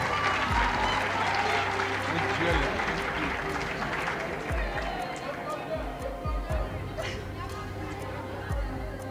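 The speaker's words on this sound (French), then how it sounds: "on peut applaudir, hein? On peut applaudir." Students and audience at a high school quiz contest applaud with a diffuse, moderately loud patter, mixed with crowd chatter and voices talking throughout.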